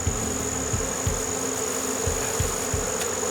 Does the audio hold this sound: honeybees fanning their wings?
yes